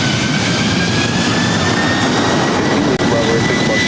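A Delta heavy jet rolls for takeoff on LAX runway 24 right, a loud, steady engine roar with broad rushing noise and a whining tone that fills the clip without a break.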